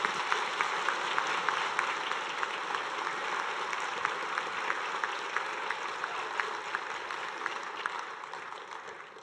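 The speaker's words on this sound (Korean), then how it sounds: "박수 한번 하십시오" Steady applause from a church congregation at an ordination service, sustained clapping that stays even and fairly loud for the whole stretch, with no one speaking over it.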